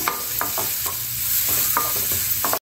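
Onions sautéing lightly in hot oil for potato roll samosa filling, a steady close sizzle broken by periodic scraping stirs of a spoon in the pan, no voices.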